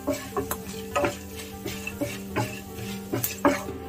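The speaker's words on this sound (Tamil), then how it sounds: "ஒரு 1 மினிட் லோ ஃப்ளேம்லேயே நல்லா இது அரோமா வர வரைக்கும் நம்ம ரோஸ்ட் பண்ணி எடுத்துக்கலாம்." Whole spices dry-roasting in a pan over a low flame for a Tamil fish or mutton kulambu, with faint scraping stirs and light clinks of a spoon against the pan at a steady, unhurried pace under a constant low hum.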